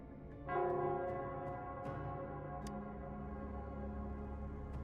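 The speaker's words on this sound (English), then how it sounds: "it's the Nell Squares bell" Nell Squares bell in the video game Wuthering Waves struck once, a resonant tone with rich overtones ringing out and sustaining with slow decay, joined by faint chime-like accents.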